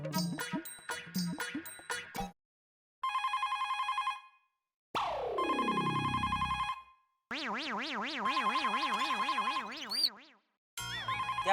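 A telephone ringing in a home, its electronic ringtone playing bursts of melodic beeps, a falling swoop and warbling tones separated by brief silences, loud and alone with no talk.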